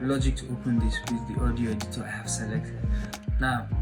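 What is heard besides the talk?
No everyday noise stands out behind the speech.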